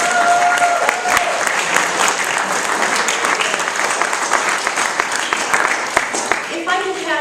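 A school showcase audience claps together in a sustained, loud round of applause with steady dense hand claps, some cheering voices mixed in and a brief tone near the end.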